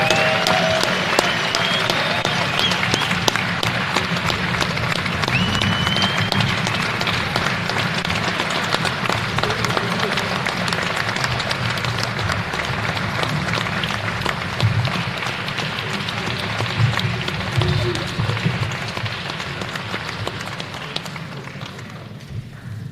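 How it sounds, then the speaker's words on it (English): A large banquet crowd at the Hammond Sports Hall of Fame ceremony in the Hammond Civic Center applauds the 2024 inductee class. The clapping is dense and sustained for over twenty seconds, with scattered cheers, easing slightly at the very end. "let's give one final applause for the 2024 class of the Hammond Sports Hall of Fame"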